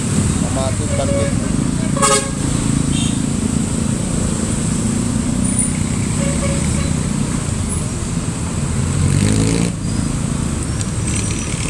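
Busy road traffic in Matin, Banting, with a steady roar of cars and motorcycles and several sharp horn toots, some close by, over a constant engine rumble and a faint murmur of voices.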